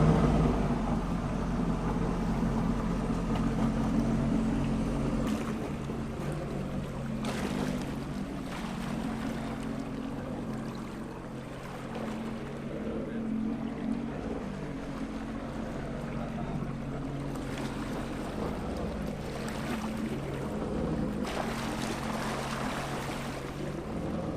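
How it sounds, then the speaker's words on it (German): Sea-Doo GTI 155 jet ski engine running steadily on the water, a continuous low droning rumble with slight swells in level and faint wash, heard from nearby for the whole stretch without talk. "zeigen euch jetzt nochmal das typische Startprozedere hier beim Jetski"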